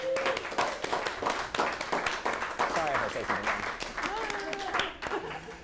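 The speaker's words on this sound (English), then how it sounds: "So everyone give them a round of applause." A crowd applauding steadily, dense clapping throughout with voices and cheers mixed in, fairly loud and continuous.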